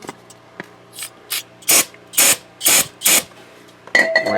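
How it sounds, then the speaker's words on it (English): Brake cleaner sprayed onto a Chevrolet Vega brake part during a brake hose job, heard as about six short hissing bursts in a quick, uneven series, close and fairly loud, with faint mechanical clicks between them. "Hit it with a little brake cleaner maybe."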